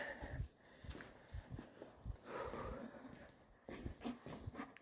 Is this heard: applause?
no